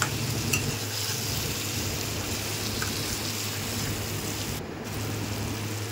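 Potatoes stirred through a frying spice masala in a pan, a continuous close sizzle with low steady hum underneath and occasional scraping of the spoon, no talking.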